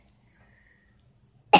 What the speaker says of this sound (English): Sorry, guys, about my cough.